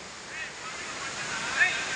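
River water rushing at Hogenakkal Falls, a steady broadband roar of flowing water heard close and continuous throughout.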